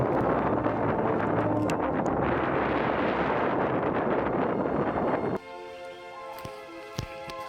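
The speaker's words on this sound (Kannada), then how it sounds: "ಒಮ್ಮೆಲೆ ಅಷ್ಟು ಗಾಳಿ ಜೋರು ರಭಸವಾಗಿ ಗಾಳಿ ಬರುತ್ತೆ" Loud, blustery wind at Z Point viewpoint near Kemmannugundi hill station buffets the microphone with a roaring rush, then abruptly drops away to a much quieter, calmer background.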